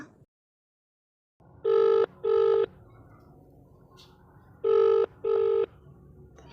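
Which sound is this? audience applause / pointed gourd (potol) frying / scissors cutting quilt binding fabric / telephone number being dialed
telephone number being dialed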